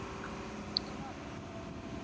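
Engine of a fishing boat out at sea running at a steady low drone, with a brief click and faint talk over it.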